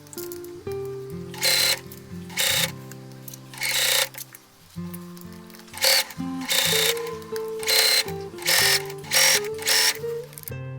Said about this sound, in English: top stitch from the front through all the layers underneath the cup